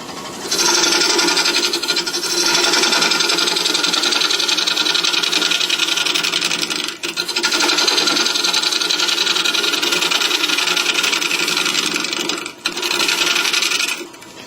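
A bowl gouge cutting into a spinning wood bowl blank on a lathe gives a loud, continuous rasping scrape that runs almost unbroken, dipping briefly twice.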